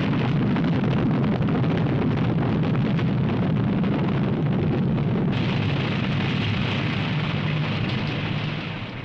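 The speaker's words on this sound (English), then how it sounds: "Here's a nuclear sub-sea explosion." A deep, sustained roaring rumble of a massive underwater nuclear explosion, loud and continuous for several seconds before slowly easing off.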